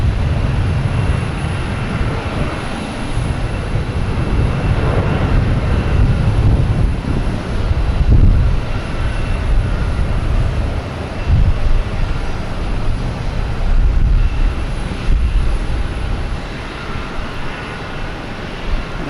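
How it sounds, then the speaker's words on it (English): Delta Airbus A321 taking off at Boston Logan Airport, a loud sustained jet roar with broad low rumble that swells and holds steadily throughout, with no voices. "Next taking off is a Delta flight 1238, an A321 heading to Minneapolis."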